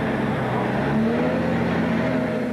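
A John Deere J-Series 4WD wheel loader slows from road speed on its approach to a material pile and drops a gear, the engine's low drone shifting pitch midway through a steady, loud rumble.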